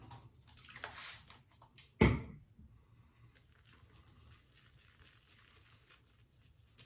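A shaving brush is wetted with a short splash and trickle of water, preceded by softer rustling and followed by quiet background noise in a bathroom.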